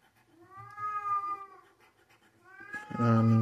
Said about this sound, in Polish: O, kot tutaj miauczy